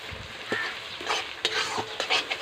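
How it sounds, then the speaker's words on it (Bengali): Garlic paste frying with onion in a pan for chicken curry, a soft steady sizzle broken by several sharp spatula scrapes and stirs, no talking. "বাটা রসুনটাও আমি পুরোর মধ্যে দিয়ে দিলাম। দিয়ে আবারও কিছুক্ষণ একটু ভেজে নিতে হবে।"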